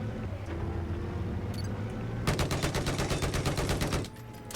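Rapid automatic gunfire from the video game Battlefield 4, fired from an LAV on a flood-zone bridge, bursts in a fast even rhythm for about two seconds over a steady engine rumble, loud and close.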